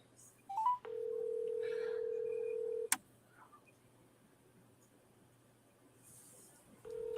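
A telephone call starts with a few quick dialing tones, then a steady ringback tone holds for about two seconds, ending in a sharp click; the tone returns near the end amid quiet room noise.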